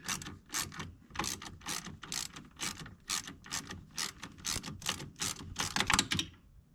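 A ratchet turns a long bolt on a John Deere compact tractor during fuel tank removal, giving a steady, fast string of sharp clicks close to the listener with no pauses.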